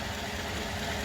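A 2015 GMC Sierra with a direct-injection engine idles steadily, a dense continuous rumble with a faint ticking texture, close and unchanging with no talk.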